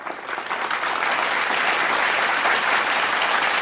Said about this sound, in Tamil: தமிழ் ஆசிரியர்களுக்கும் ஒரு பலத்த கரவொலியை நாம் எழுப்பலாம்